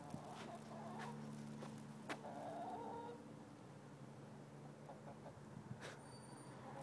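Chickens cluck in a steady outdoor background, with a faint rooster crow and occasional footsteps.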